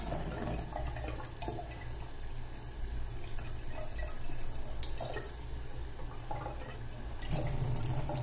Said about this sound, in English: put some water drops over it and see if it works